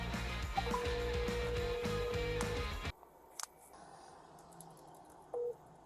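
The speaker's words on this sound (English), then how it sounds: "Hey, I can't get through to anybody. Nobody's picking up." An unanswered phone call: a steady ringback tone sounds for about two seconds over busy background noise, then the line goes quiet and the tone briefly starts again near the end.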